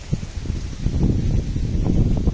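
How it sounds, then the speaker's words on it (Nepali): Wind blows outdoors as dark storm clouds gather over a village. Moderate gusts rustle close by with a rough, breathy noise that rises and falls and stays fairly steady for the whole stretch. "हावा चल्दैछ।"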